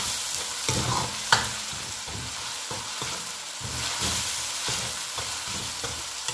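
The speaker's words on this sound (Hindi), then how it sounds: "वो इसमें डाल दूंगी और चम्मच हिलाऊंगी और इसको प्याज के साथ अच्छी तरह से फ्राई करूंगी" Ginger garlic paste sizzles steadily with onions in a pan for a mash daal, and a spoon scrapes and stirs in a steady rhythm. The frying is loud and close throughout, with no talking.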